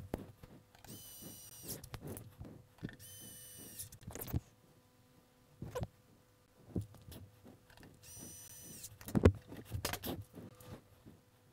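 An electric screwdriver drives side screws into a 12V 280Ah LiFePO4 battery box, with three bursts of whirring between softer clicks, taps and handling of screws and the case.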